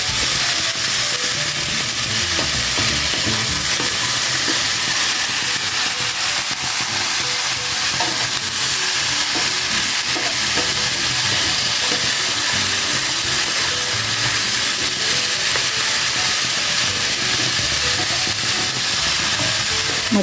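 Chicken fillet and celery stir-fried in a pan give a loud, continuous sizzle and hiss, with small scraping stirs mixed into the steady frying noise throughout.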